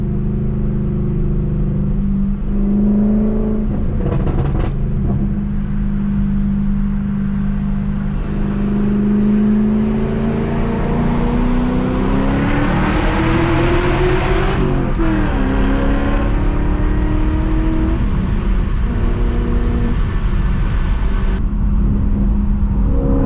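A straight-piped BMW 540i runs loud and close, its deep engine drone holding steady before climbing in pitch through a long rev, then easing off into a rumbling idle with a few throttle blips.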